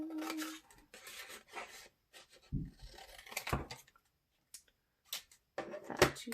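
Scissors snipping through a magnetic page tab, a few short close cuts and rustling paper handling in bursts with quiet gaps between.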